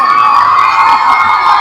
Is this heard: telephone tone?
no